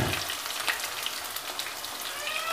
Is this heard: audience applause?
no